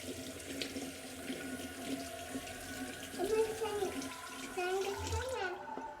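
Makeup brushes rinsed under a running tap, a steady close splash of water into a sink with a little faint rubbing, while people talk over it.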